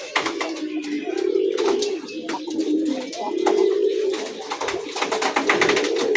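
Pigeons cooing after being fed, several overlapping throaty coos in long rolling phrases, close and fairly loud, with scattered chirps and clicks.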